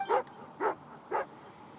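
Dog in Genshin Impact giving three short yelping barks with a whimpering edge, evenly spaced about half a second apart, close and clear with no talk.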